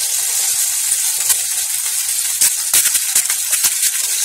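Green chillies sizzling in hot oil in a pan while cooking junka, a steady bright hiss with scattered crackles and pops, close and fairly loud with no talking.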